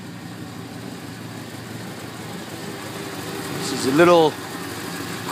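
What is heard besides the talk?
1967 Pontiac Parisienne engine idling cold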